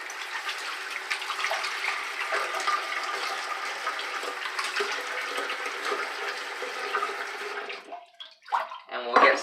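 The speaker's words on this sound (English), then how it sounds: "So I'm just going to wet the face." Water runs steadily from a bathroom tap while a face is wetted before a shave, a close, continuous hiss that cuts out near the end and gives way to a few splashes and handling noises.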